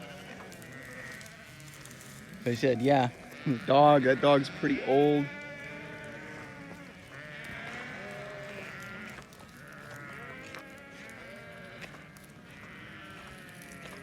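A flock of about 2,000 sheep bleat several times in a quick cluster, fairly close, while someone talks over scattered background noise.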